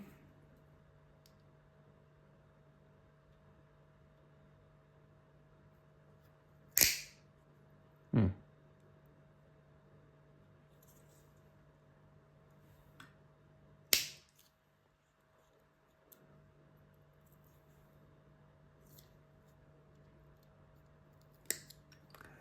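Cutting while servicing a Sansui 500 EA tube receiver: a few sharp, isolated snips spaced several seconds apart, close and crisp, over a quiet steady hum.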